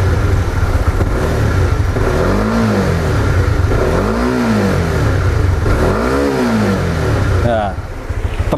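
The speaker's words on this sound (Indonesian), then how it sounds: "aku geber sedikit dan bagaimana suaranya ketika digeber, suara motornya" A Honda CB150X motorcycle engine is revved repeatedly to high RPM, three rising and falling swells over a steady idle, with someone talking throughout.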